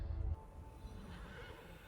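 A horse neighs in a TV show, a loud whinny at the start that fades into a quieter stretch of faint background sound.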